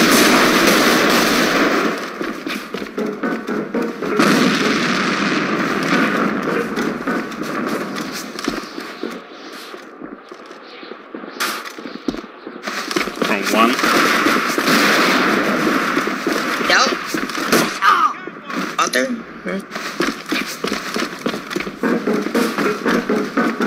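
Dense bursts of rapid gunfire and blasts, including a grenade explosion, fill an A.V.A online shooter match, loud and nearly continuous with brief lulls, and faint voices surface beneath the shooting.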